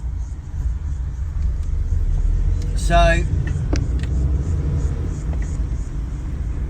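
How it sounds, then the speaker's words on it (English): Cars pass by outside an open car window, a low rumbling traffic wash with one brief louder whoosh midway, while a person speaks a word. "A few cars and that."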